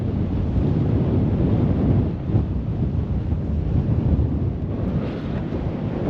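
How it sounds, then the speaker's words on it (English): Strong wind buffets at a cliff edge in a steady, roaring low rush, close and loud throughout with slight gusting swells. "It's a wee bit blowy up here"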